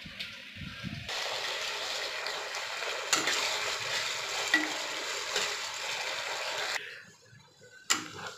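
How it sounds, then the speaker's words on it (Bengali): Chopped onion frying in a pan, a steady crackling sizzle that runs for several seconds, then drops away and returns briefly at the end. "পেঁয়াজটা ভাজা ভাজা হয়ে গেছে"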